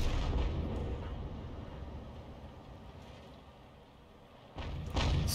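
A 105 mm leFH18B2 artillery gun fires in a tank battle game, a deep booming blast with a long rumbling tail that fades, then a second loud report breaks in near the end.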